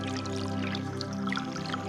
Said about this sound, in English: It's already filtering there. That's the fresh water coming from the aquifer.